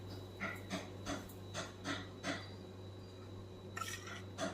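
Raw mango pieces being stirred with salt for pickle, quiet scraping and rubbing strokes against a vessel in a loose rhythm of short bursts, close by with no talk.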